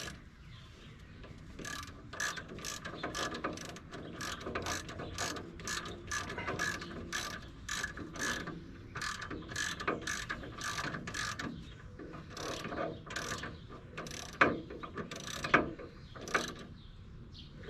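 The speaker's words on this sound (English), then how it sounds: "I'm only going to put 2 bolts in because I got to take it off." A ratchet wrench drives bolts while an LS V8 engine is fitted into an MGB, giving a long run of quick, regular clicking bursts. The clicks are close and fairly quiet, with no talk.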